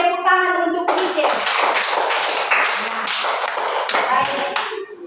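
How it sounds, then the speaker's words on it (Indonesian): A class of children claps together for a classmate, a dense run of brisk, close claps that follows a brief spoken line and carries on for several seconds. "tepuk tangan untuk Krisye"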